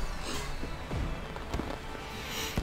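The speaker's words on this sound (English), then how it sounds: "Oh boy, some fireworks." Fireworks in the video game Pokemon Sword & Shield crackle and pop over a steady wash of crowd-like noise, with several whistling bursts spread across a few seconds.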